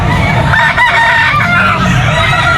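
A two-year-old bulik gamefowl rooster at a pet market gives one loud, close crow that runs through the whole moment.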